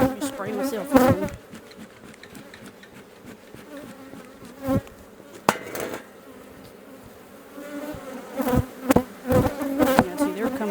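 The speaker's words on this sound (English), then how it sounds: "Yeah, see, they're coming up everywhere. Not happy bees." Agitated honey bees swarm up out of an opened hive box during a late-season check before winter, a dense, steady buzz close by with sharp loud passes of bees flying near, rising and falling without any talk.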